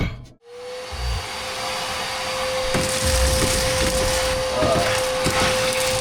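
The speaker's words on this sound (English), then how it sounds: "Y'all ever vacuum your interior?" A vacuum cleaner switches on and runs with a steady high whine inside a 1977 Toyota Celica interior during restoration, with brief scraping and knocking as the nozzle moves over surfaces.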